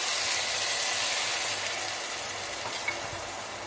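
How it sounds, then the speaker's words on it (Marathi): Vegetables sizzling in a spiced tempering as a little water is added, for an onion- and garlic-free vegetable biryani. A loud, dense hiss starts strong and eases slightly over several seconds, with no voices. "आता भाज्या शिजण्यासाठी थोडंसं पाणी घालते मी."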